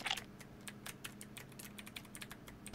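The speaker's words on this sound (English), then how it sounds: "My keyboard's probably picking up so loud right now." Computer keyboard typing picked up loudly during a Pokemon Dusk Remastered game session, rapid irregular clicks and taps in a near, continuous stream with no voice.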